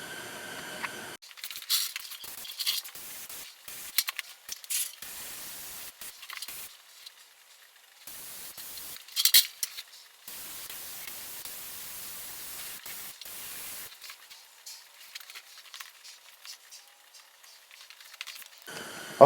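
Long bursts of hissing spray from a paint gun applying blue paint to a car body, starting and stopping repeatedly, close and fairly loud, with no talking.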